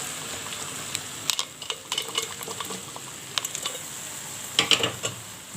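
Boiled potatoes and peas dropped into frying tomato masala in a pan for ghugni, a soft steady sizzle with scattered clinks and scrapes of a spoon against the metal, quiet and close.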